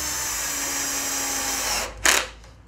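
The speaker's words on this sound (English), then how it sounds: "And then just send the screws in" A power drill drives screws into pallet wood, giving a steady close whir that stops and then a short final burst of spinning.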